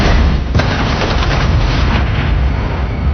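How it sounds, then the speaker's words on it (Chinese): A dirty bomb detonates in a TV thriller scene: a loud, dense roar of blast noise with a sharp crack near the start, sustained and rumbling throughout without letting up. "格拉维克马上引爆了真的脏弹"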